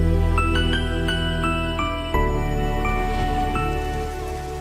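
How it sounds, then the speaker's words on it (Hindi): Rain falls outdoors during a romantic film scene, a steady soft hiss that continues under sustained musical tones with no voices. "हे, बारिश हो रही है।"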